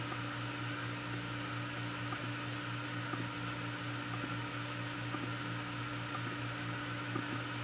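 Adventuridge iceless electric Peltier cooler from Aldi running with a steady, even mechanical fan hum and faint electrical whir, constant throughout with no talking.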